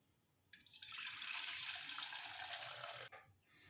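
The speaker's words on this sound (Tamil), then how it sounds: "இப்போ வந்து தண்ணி வந்து வடிச்சுக்கலாமுங்க" A short burst of running water drained from soaked flattened rice, a rushing pour that starts abruptly, flows steadily for about two and a half seconds, then cuts off.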